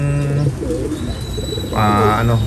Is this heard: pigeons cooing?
yes